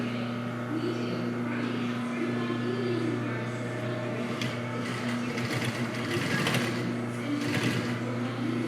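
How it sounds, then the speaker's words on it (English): A sewing machine stitching classic car headliner fabric, backing up and sewing over the seam: a steady tonal motor hum with a buzzing stitch rattle, close and continuous, with a few louder clatters toward the end. "I like to back up maybe about an inch or so and sew back over it"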